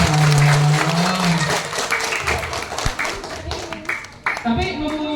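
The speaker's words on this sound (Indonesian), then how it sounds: "Tepuk tangan buat Miming." Children and teachers clapping at a primary school Isra Mi'raj gathering, a burst of uneven close applause with taps and thumps, interrupted by speech and a tonal voice near the start.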